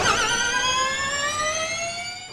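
Formula E electric race car on the racetrack in Berlin, a loud futuristic high-pitched whine made of stacked tones that slowly drop in pitch over about two seconds, heard alone without voices.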